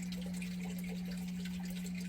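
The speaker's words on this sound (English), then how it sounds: "the sound of the beautiful water coming from the aquaponic systems, coming from the automatic bilge siphon" Water running steadily from an automatic bilge siphon in an aquaponic system in a backyard micro food forest, a continuous close wash of flow with a steady low hum beneath it, no voices.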